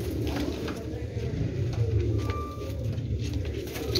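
A pigeon coos in low, soft murmurs, held down under steady background noise with some voices nearby.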